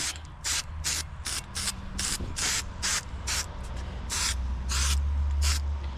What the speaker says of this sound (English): take some fluid film. Give that a light coat.